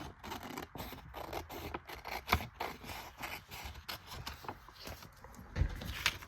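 Scissors cut through a paper envelope while an ephemera folder is made, giving a run of close, scratchy snips and paper rustles with a couple of sharper clicks, no voices.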